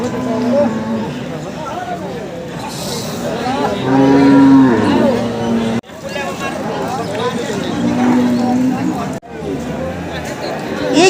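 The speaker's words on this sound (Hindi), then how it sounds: "ये देखिए, यही भाई इस भैंस को खरीद के ले जा रहे हैं।" Buffalo at a livestock market in Bihar give several loud, drawn-out moos, some long and rising, close by. A busy crowd chatters and people talk throughout.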